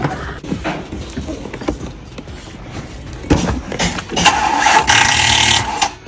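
Ford Mustang GT350 starter cranking sluggishly on a weak battery, a choppy mechanical churning that grows louder and harsher toward the end without catching.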